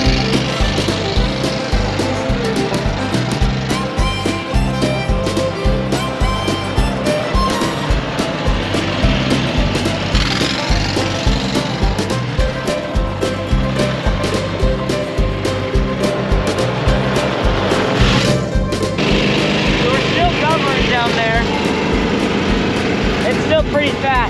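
Golf cart fitted with a Predator 670 engine, driven on a fresh break-in run, its motor droning steadily and loud throughout with continuous road and wind noise.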